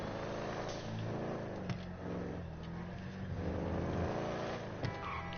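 A car drives in a PS4 video game, its engine droning steadily with small rises in revs and a couple of light knocks, fairly quiet throughout.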